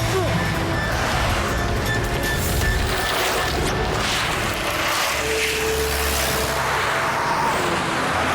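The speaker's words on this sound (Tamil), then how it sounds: "வண்டியை வேகமா ஓட்டுறான்" A car driven fast in an action chase scene, a loud continuous roar of engine and rushing wind noise with a deeper rumble swelling partway through, no clear talk.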